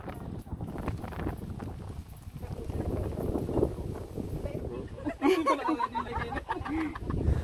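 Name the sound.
strong wind at Mount Samat shrine on the microphone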